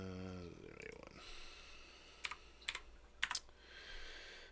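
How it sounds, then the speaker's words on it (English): Typing on a computer keyboard during a live show: quiet scattered clicks, then a few short bursts of keystrokes spaced about half a second apart over a low background hum. "I'll just type it in."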